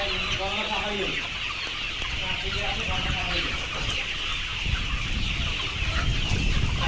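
Layer hens cluck and squawk continuously in a crowded poultry farm at a chicken sale, with a busy, steady din of many birds close by and people talking underneath.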